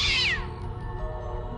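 A black cat gives one loud, high meow at close range, as an audio drama sound effect, fading into a quiet eerie hum.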